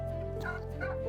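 Around fifty chickens in a large outdoor pen on a Florida farm give warbling, overlapping calls at close range over a steady low background drone.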